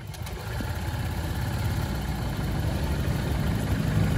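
A Honda SH Mode scooter engine with a rough, stuttering idle runs with a steady low rumble, close by, with no voices.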